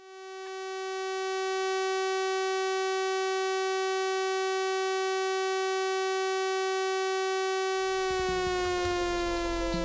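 A steady, sustained siren tone with rich harmonics holds for about eight seconds, then begins to waver and shift as rumbling noise rises beneath it.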